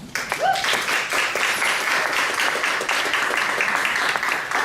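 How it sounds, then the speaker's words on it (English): A crowd at a corporate upfront presentation applauds steadily as a network executive comes onstage, dense clapping holding at an even, fairly loud level throughout. "Everybody always applauds the idea of bringing out an executive."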